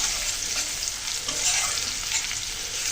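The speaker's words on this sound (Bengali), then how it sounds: "হলুদ দিয়ে পেঁয়াজগুলো কিন্তু একদম বেরেস্তার মতো করে ভেজে নেব" Onions frying in hot oil with turmeric in a pan, a steady close hiss and sizzle with light stirring scrapes, no talk.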